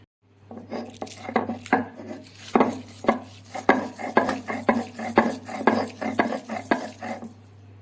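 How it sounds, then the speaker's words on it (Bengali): Cooled onions being ground on a stone shil-nora slab make a rhythmic series of rough scraping strokes, about two per second, close and moderately loud over a low steady hum. "এবার আমি এগুলো শিলনোড়াতে বেটে নেব"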